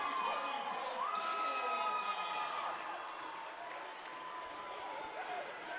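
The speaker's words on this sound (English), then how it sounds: "The Knight Riders fans are telling everyone to stand up and cheer, make some noise." Fans at a North Dakota high school girls hockey state tournament cheer and shout in the arena, a distant, fairly faint crowd roar with whistling tones and voices that eases slightly toward the end.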